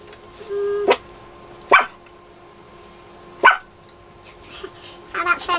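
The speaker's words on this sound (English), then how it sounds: "pardon the dogs." Shelter dogs bark nearby in sharp single barks spaced a second or two apart, with a quicker cluster at the end, over a low steady background hum.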